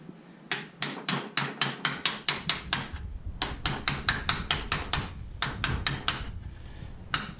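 Steady hammer blows bend the body metal of a 1968 Nova. Two long runs of sharp, evenly spaced metallic strikes ring out close by, with a short pause between them.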